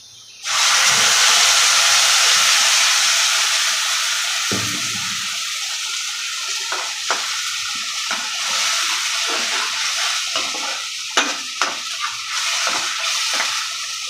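Ground fish curry masala is poured into hot oil over sautéed onions and erupts into a loud, sudden sizzle. It settles into a steady close hiss dotted with scattered pops and crackles.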